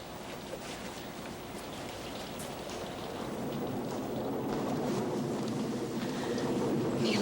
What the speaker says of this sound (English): Raining like hell.